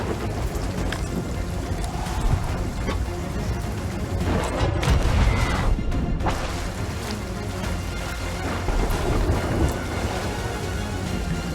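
Thunder and lightning in the pirate video game Sea of Thieves as a continuous loud storm roar with crackling booms and heavy rumble that surges around the middle, with no voices.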